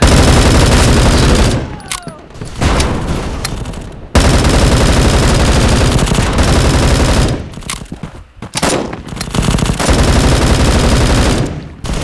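Automatic gunfire in the Bullet Force shooter video game, loud rapid bursts of shots broken by short pauses and brief gaps of quieter sound.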